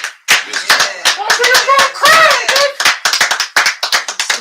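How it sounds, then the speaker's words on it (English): An audience breaks into steady, dense applause, many hands clapping close and loud, with brief cheering voices mixed in and the claps thinning into scattered individual slaps toward the end. "if y'all will give this man a round of applause"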